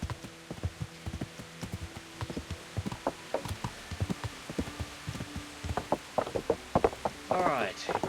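Rain patters steadily in Kingdom Come: Deliverance, a soft continuous hiss under a quick run of close clopping hooves or footsteps, with a brief voice near the end.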